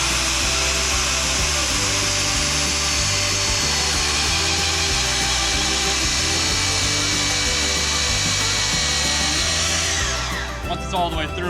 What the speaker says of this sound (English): we can then hammer drill into the concrete and run the concrete pin in